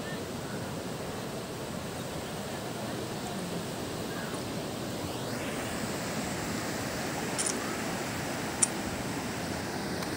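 Steady broadband wash of surf rolling onto a beach, continuous and fairly soft, with a faint breezy hiss and no talking.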